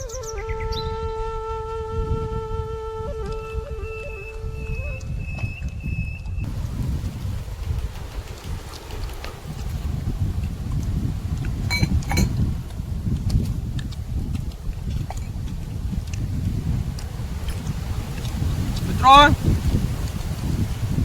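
Strong wind blows steadily outdoors during a tikdi bhajiya cooking session, producing a continuous rough low rumble and buffeting across the whole stretch, with brief musical tones at the start.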